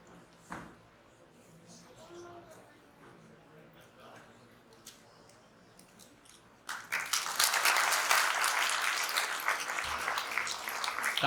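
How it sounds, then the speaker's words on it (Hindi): Audience applause at the opening of a prayer and introduction session in Valukad, Gujarat, during a lamp-lighting ceremony. A quiet hall with faint scattered sounds suddenly fills with loud, steady clapping from many people that carries to the end. "तालियों की नाद से"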